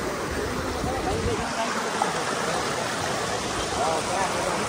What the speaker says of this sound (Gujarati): વાહ ઝરણા વાહ